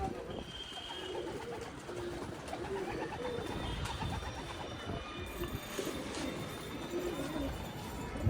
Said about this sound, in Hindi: माशाल्लाह बहुत बढ़िया कबूतर उड़ रहा है।